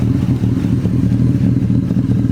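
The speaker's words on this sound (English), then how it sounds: "Now let's give it a start up. Yeah, it's a cold start." A motorcycle idles roughly after a cold start, its engine chugging steadily and loud up close with a busy mechanical clatter and slight surges in revs.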